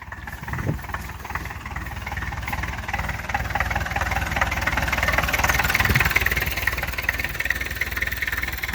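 A homemade tractor fitted with a ship engine drones under load throughout, a low rumbling hum that swells slightly midway, with no voices.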